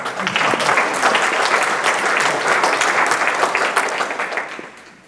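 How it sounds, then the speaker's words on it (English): Sustained audience applause at a lecture on the Civilian Conservation Corps in Iowa, steady dense clapping filling the room for several seconds before tapering off at the end. "let's give Linda a big round of applause"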